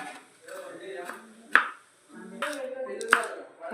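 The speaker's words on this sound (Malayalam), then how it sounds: "ഇതിലേക്കുള്ള ഉള്ളി കട്ട് ചെയ്തെടുക്കുകയാണേ ഇഞ്ചി കട്ട് ചെയ്തെടുക്കണ്ടേ" A knife cuts onion and ginger on a board, a few sharp chops spaced over a few seconds amid softer rustling handling sounds.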